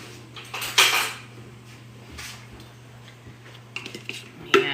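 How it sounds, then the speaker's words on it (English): Cutlery rattling as a spoon is picked out in a kitchen while cooking, a bright metallic clatter near the start followed by lighter clinks and taps toward the end, close by. "I'm going to get a spoon."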